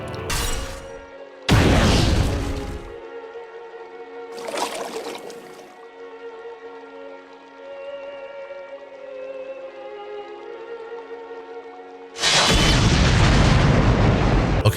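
Huge world-shaking explosions in the action game Asura's Wrath: four loud, broadband booming blasts, the last one sustained, separated by quieter stretches of low droning tones.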